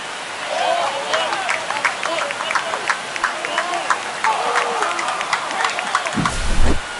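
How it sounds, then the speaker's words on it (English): Baseball crowd at a Yankees vs Dodgers game roaring after a home run: a steady, dense wash of cheering and applause held for several seconds, with a voice talking over it and a low thump near the end. "This crowd is on fire right now. They're going nuts thanks to that home run."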